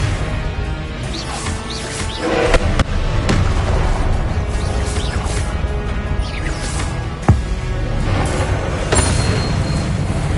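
Blasting spell explosions from the video game Hogwarts Legacy, several loud booming bursts and crashes over a dense, continuous roar of combat effects with no talking.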